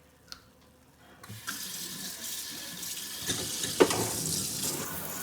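Tap water runs into a kitchen sink to fill a pan for soaking after cooking salmon, a steady close splashing rush that starts after a quiet second and grows louder, with a few clinks of the pan.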